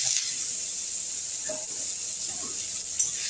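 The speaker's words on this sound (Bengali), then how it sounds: "মশলাটা ভাজা হয়ে গেলে আমি আমড়াগুলো দিয়ে দিলাম।" Hog plums dropped into hot oil with fried five-spice seasoning for a Bengali chutney give a steady, loud broadband sizzle that holds evenly for the whole stretch, with faint pops and spatters near the pan.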